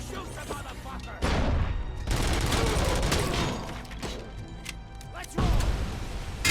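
Loud, close gunfire in the RoboCop: Rogue City video game: dense bursts of rapid shots and heavy impacts, with two sharp surges of volume separated by slightly quieter stretches of sustained firing.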